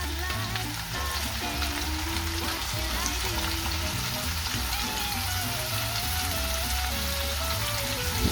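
Prawns and mussel meat fry in a pan with a loud, continuous sizzle and crackle, close up and unbroken, with faint stirring beneath.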